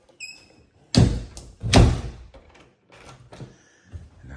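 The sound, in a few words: door being closed and locked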